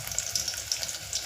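Mustard seeds sizzle and crackle in hot oil during preparation of spiced masale bhat, a steady close frying hiss dotted with faint pops, with no one talking.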